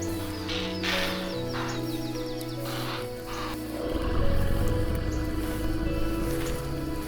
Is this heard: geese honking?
no